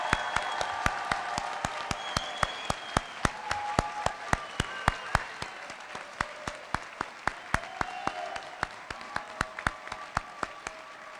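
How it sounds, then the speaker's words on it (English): Audience applause for MBA graduates at the University of Iowa Tippie commencement, sustained clapping from a large hall crowd with a few sharp, loud individual claps standing out near the front. "Audience, let's give them a round of applause one more time."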